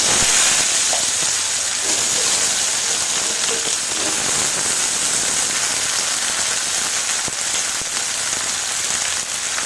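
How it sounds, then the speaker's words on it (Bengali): Arum vegetable frying in hot oil in a pan, a loud, steady, dense sizzle and crackle running throughout without a break, with no talking. "তেল গরম হয়ে গেছে, সবজিটা ভেজে নিই।"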